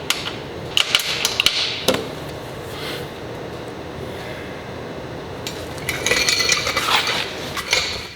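A wrench rattles and clinks against a bolt under the flat bed of an XP camper, with sharp metallic knocks and scraping bursts at the start and again near the end, close and fairly loud.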